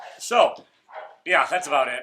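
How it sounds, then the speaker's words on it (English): A dog barks with a few sharp yips at close range indoors, overlapping a person's voice as they talk. "And sorry about the dog again."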